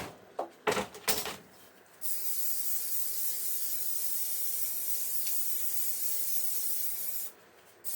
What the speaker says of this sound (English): Where's the hairspray?